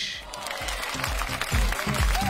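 A radio show studio claps for health workers. The dry, scattered applause runs under a loud talking voice, with thumping bumps in the background.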